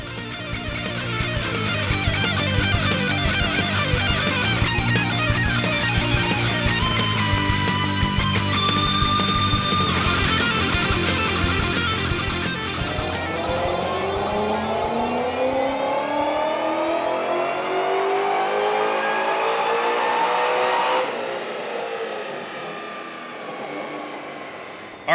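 A supercharged 2011 Mustang GT on a dyno revs hard and climbs steadily through its range with a loud, whining roar, then backs off and winds down, with no talk.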